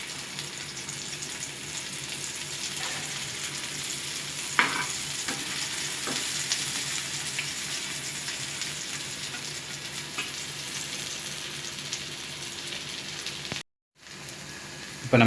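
Elephant foot yam (karunai kizhangu) pieces sizzle steadily in hot oil in a pan, a constant close frying hiss with a few soft clicks as the pieces are turned over, broken by one brief gap near the end.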